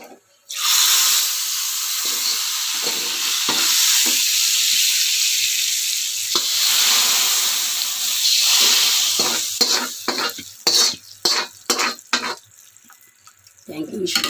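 Spices for a tomato dal tempering hit hot oil with a loud, steady sizzle that holds for several seconds, then breaks into sharp spluttering pops and clinks as it settles; a voice speaks briefly.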